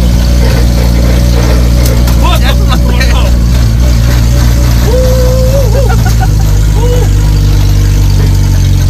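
The 3K engine of a 1975 Toyota Corolla KE30 drives in second gear with a loud, steady low drone and a slight rise in pitch. Occasional voices are heard over the engine noise.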